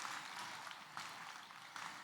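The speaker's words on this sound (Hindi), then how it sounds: "ये बच्ची तालियों के हकदार है, ज़ोरदार तालियां" Soft, distant applause from an audience at a girls' school annual day, a faint even patter of clapping with no voices on top.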